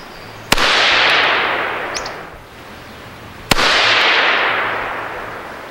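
A Kel Tec CMR 30 rifle fires CCI Mini Mag rounds, two sharp, loud shots about three seconds apart, each followed by a long ringing echo that fades slowly.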